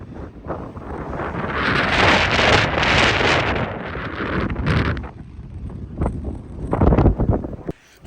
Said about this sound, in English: It is loud with the wind.